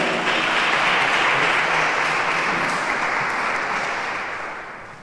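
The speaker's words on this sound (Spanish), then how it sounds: "Un aplauso." Audience applause at the presentation of a new online theology course, a dense, loud wash of many hands clapping that holds steady before gradually fading toward the end.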